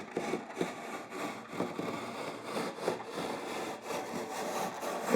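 A freshly sharpened saw cuts through wood while building a travel trailer's floor frame, with steady rhythmic back-and-forth strokes that are close and fairly loud, and no talking.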